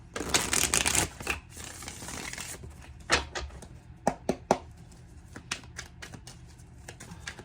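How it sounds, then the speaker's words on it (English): Cards riffle in a quick burst, followed by a series of sharp taps and clicks as the deck is squared and handled close by. "That's a nice shuffle."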